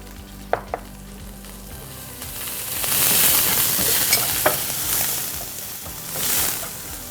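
Chopped onion sautéing in oil in a pan, a steady crackling sizzle that swells and eases, with a couple of sharp utensil taps near the start and occasional stirring scrapes.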